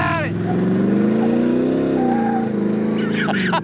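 A 1970 Chevy Blazer's engine revs hard as the old truck accelerates, a loud, close, droning roar that climbs in pitch and holds steady, with a voice breaking in near the end.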